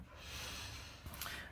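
A dog heard panting after coming in from the hot outdoors, a soft, steady breathy rasp close to the microphone for a moment, with a sharper snort-like exhale near the end.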